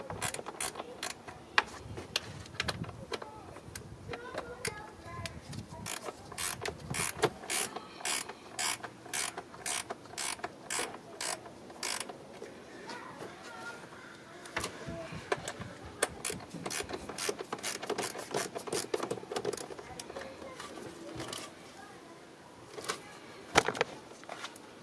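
Repeated clicking of a ratchet wrench loosening a bolt on a 2015 Jeep Cherokee engine, with a quick rhythmic run of clicks, then pauses and further bursts, close and fairly loud with no talking.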